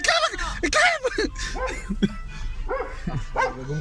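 Several dogs barking and yipping as they run outdoors, loud and close, mixed with people talking over them.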